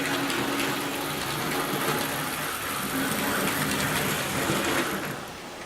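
A Mantua 0-6-0 switcher model locomotive runs on track with noisy gears, a continuous whirring, grinding mechanical hum that holds steady, then drops off near the end.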